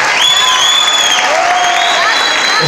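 A loud crowd at a live concert applauds the orchestra, with clapping mixed into cheering, whoops and long shrill whistles, sustained and dense throughout.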